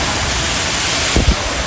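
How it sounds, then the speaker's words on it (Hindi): Heavy rain pours steadily during a thunderstorm in Gujarat, a dense continuous hiss close to the microphone, with a couple of brief low thumps near the end. "बारिश बहुत ही ज़्यादा तेज़ है"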